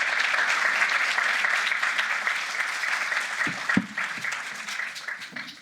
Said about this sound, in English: Can we keep the applause going for Rich?